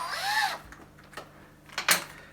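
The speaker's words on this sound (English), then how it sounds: "this is a drill we're gonna use." A power drill, about to bore a hole in a bucket, gives a brief rising whir at the start, followed by a few short, faint mechanical bursts in a quiet room.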